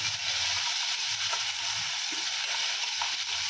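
Paneer chilli with chilli sauce and soy sauce hisses and sizzles in a hot pan while a spoon stirs it, giving faint scraping taps over a steady frying hiss, with no speech.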